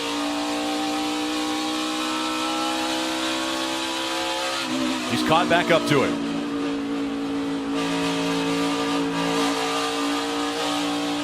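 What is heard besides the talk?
NASCAR race cars racing, engines revving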